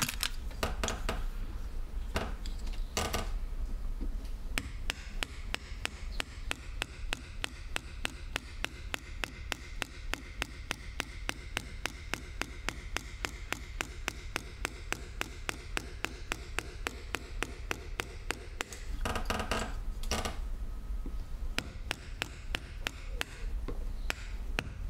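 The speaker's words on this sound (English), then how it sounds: "I need a deeper chisel for that." A chisel cuts into a Japanese woodblock for printmaking, giving a long, steady run of close, crisp taps and chops at a regular fast rhythm, with no voice over it.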